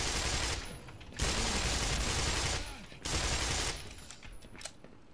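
Shotgun fire in the game Black Mesa, a remake of Half-Life, comes as long loud bursts of gunfire broken by short quieter gaps, with a sharp single crack near the end.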